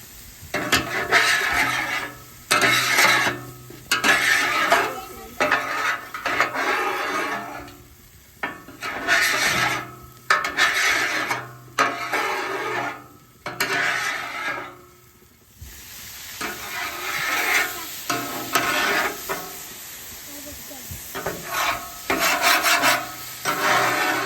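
Metal scraper rasping back and forth across a cast iron Blackstone griddle, in repeated bursts of gritty scraping with brief pauses, close and fairly loud, with a faint sizzle underneath.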